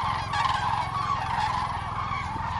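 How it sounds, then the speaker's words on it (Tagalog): Many ducks calling together outdoors on grass, a dense continuous chorus of honking, gobbling fowl calls, loud and close with no pauses. "Ang daming ducks."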